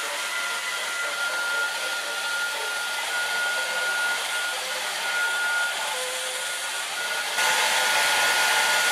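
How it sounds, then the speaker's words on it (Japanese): Hair dryer blowing steadily close by while hair is dried, a constant loud airy whoosh with a slight rise in intensity toward the end. "ドライヤーしてあげる。"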